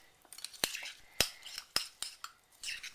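A utensil stirs bruschetta mixture with olive oil in a bowl, giving a few sharp clinks against the side between softer wet scraping, close and fairly quiet.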